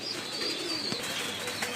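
Pigeons coo in a loft where they are kept and fed grit, a brief, steady murmur of soft calls close by with no other sounds.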